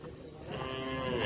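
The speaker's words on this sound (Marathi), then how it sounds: "हे गिरगाईचं वासरू" A Gir cow calf gives one short, close moo on a farm, a brief tonal call with no talking.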